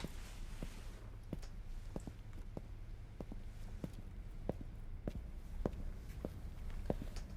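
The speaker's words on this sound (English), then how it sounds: "all those footsteps are likely what's called Foley stage footsteps" Foley stage footsteps at a live BTS music performance of Butter sound as a steady series of soft, evenly spaced steps, quiet and close, over a low continuous background hum.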